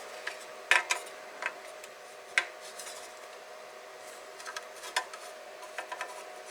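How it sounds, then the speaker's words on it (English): Screws taken out of the back of a Goldshell Mini Doge Box crypto miner, with scattered light metallic clicks and ticks at irregular intervals over a faint steady hum. "Remove those screws off the back."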